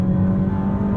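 Deep, steady drone of a Ferrari SF90 Spider's V8 engine under load during a drive, heard from inside the car with a strong low hum held evenly through the short moment.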